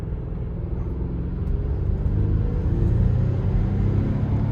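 A 2023 Volvo XC60 Recharge plug-in hybrid, a 455 hp family SUV, accelerating: a steady low road rumble and drivetrain hum from inside the cabin that swells slightly louder midway and holds, with no talking.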